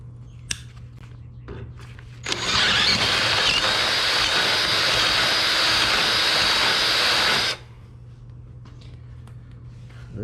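A 1966 Chevy C10 engine with exhaust cutouts revs up for about five seconds, a loud broad roar that starts and cuts off abruptly, with quieter idle before and after.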